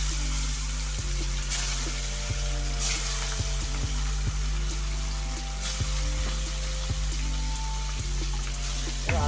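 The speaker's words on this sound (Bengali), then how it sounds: "এবার এর মধ্যে দিয়ে মাছগুলোকে এক একে ছেড়ে দেবো" Marinated fish pieces fry in hot oil in a home kitchen, a steady close sizzle with occasional sharp clicks and crackles throughout.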